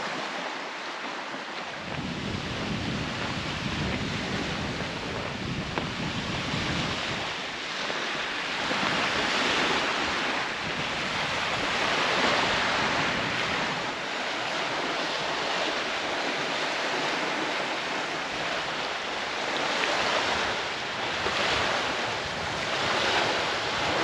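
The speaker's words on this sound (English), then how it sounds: "Non-stop little waves hitting the beach there." Small choppy waves break without pause on a Lake Superior beach in the wind, a continuous surf wash mixed with gusty wind noise on the microphone and no voices.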